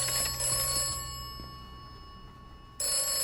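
Telephone ringing inside the video game Atomfall, a steady electronic ring with high sustained tones, loud at the start, fading through a pause, then returning loud near the end, no talk.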